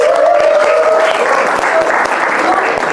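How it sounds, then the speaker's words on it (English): Applause from an audience at a faculty development programme session, steady dense clapping throughout with a voice speaking over it. "she deserves a big round of applause."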